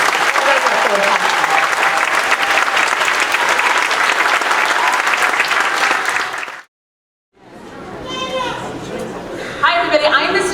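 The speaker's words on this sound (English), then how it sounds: "you should give them another round of applause" A school audience at an elementary school spring concert gives the Chamber Singers a loud, sustained round of applause for about six seconds. After a brief silence, a murmur of children's and adults' chatter rises in the room.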